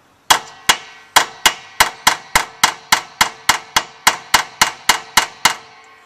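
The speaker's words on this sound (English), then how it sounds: "try hammering. I don't know." Hammer blows on a broken bolt during extraction work, about sixteen sharp metallic strikes in a steady rhythm, close and loud with short ringing decay after each hit.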